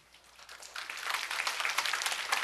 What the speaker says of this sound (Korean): 한번 일어날 때 한번 박수 한번 쳐주세요